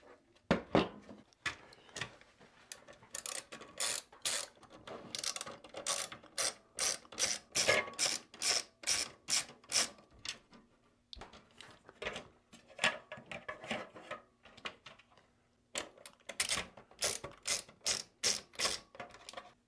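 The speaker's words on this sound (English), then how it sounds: "next we want to remove the four screws on each fan, so eight screws total, that are actually holding the fans in place" Screws are being removed from the case fans inside a Synology 920+ NAS, producing close, crisp bursts of rapid ratchet-like clicking in quick repeated runs with short pauses between them, and no talking.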